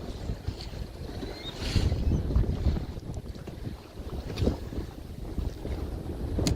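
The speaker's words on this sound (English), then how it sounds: "Some good sized waves rolling through" Good-sized waves roll past a fishing boat at sea, surging and slapping against the hull amid heavy wind buffeting the microphone, the wash swelling and easing in uneven pulses.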